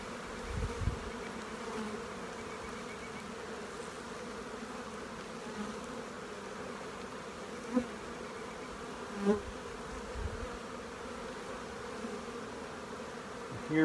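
Honeybees buzz in an opened hive, a dense, steady hum that fills the whole stretch at a close, moderate level. A few brief knocks and bumps from handling the hive cut through, and no one talks.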